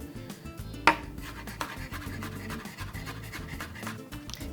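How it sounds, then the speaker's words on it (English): A knife chops green onions and jalapeno for salsa on a cutting board, a quick, fairly faint run of close taps and thuds with one sharper knock near the start and no talking. "Next up, I'm chopping 2 green onions."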